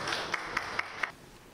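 Audience applause greeting the Prime Minister of Mali at a meeting with political parties: a few faint, separate claps spaced about a quarter-second apart over a soft background, with no sustained ovation.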